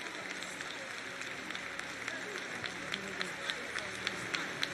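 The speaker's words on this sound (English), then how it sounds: "Clap your hands and pray." A church congregation at a conference claps during prayer, with faint, rhythmic hand claps repeating at a steady beat over a low murmur of voices in a large room.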